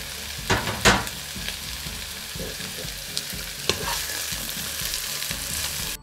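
Onion and spicy chili sautéing in a pan for potato and carrot noodles, a continuous close sizzle broken by a few sharp scraping stirs near the start, no talking.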